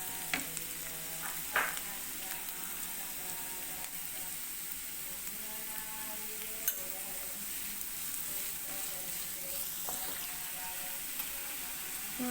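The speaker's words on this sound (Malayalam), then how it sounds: "സവാള ഇട്ടു. നമുക്ക് നന്നായിട്ട് വഴറ്റാം." Onion sautés with salt in a hot pan in a home kitchen, giving a steady soft sizzle throughout, with occasional spoon scrapes and clinks against the pan and no talking.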